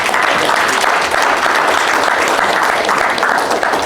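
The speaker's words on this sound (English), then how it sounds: "give a round of applause to yourselves" A conference audience at a workforce management summit claps loudly, a dense and steady burst of applause that holds throughout.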